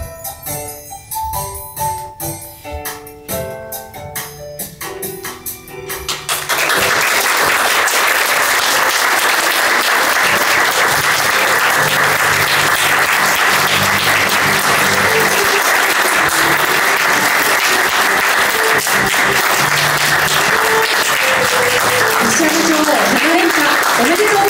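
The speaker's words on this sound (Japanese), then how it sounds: "皆様盛大な拍手でお迎えください。" Sustained applause from the audience at a shogi title ceremony greeting a seven-time women's champion. It follows a few seconds of background music, then runs loud and steady for the rest of the clip.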